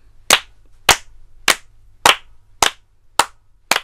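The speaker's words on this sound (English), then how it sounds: "So we clap together, go." A group claps a steady rhythm together, seven sharp, evenly spaced claps about half a second apart in a quiet room during a music rhythm exercise.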